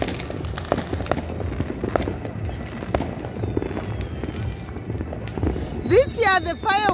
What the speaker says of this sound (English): the fireworks are so low key